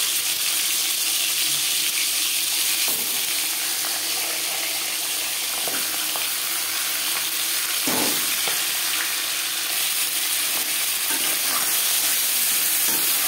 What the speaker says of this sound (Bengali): মাছের মাথা ভেজে নেব।